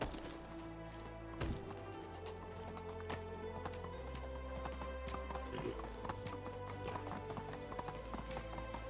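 Horse hooves clip-clop in a steady rhythm, with a whinny, from the video game Medieval Dynasty; the sound is quiet and continuous over a low game backdrop.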